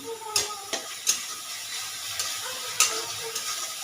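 Spices for a prawn dish, sweetened with a pinch of sugar, sizzle in a pan with a soft continuous hiss, broken by several sharp spatula clacks against the pan's sides, close and clear.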